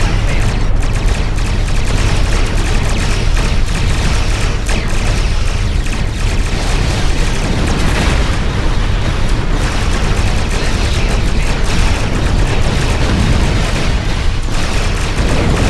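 Starship weapons fire and explosions in the space battle game Star Trek Online, a dense, loud, unbroken roar of blasts and rumbling booms that fills the whole stretch with no let-up.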